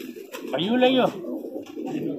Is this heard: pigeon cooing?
yes